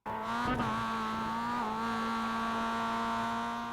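Mazda MX-5 race car lapping Charlotte Roval in the iRacing game, a close, steady high-revving engine whine with a brief tyre squeal early on, alone without talk.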